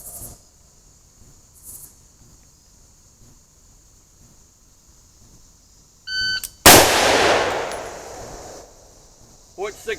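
A single loud gunshot at an outdoor shooting range cracks out after a few electronic beeps from a shot timer, its report decaying over the next second or two, with quiet background noise and faint voices elsewhere.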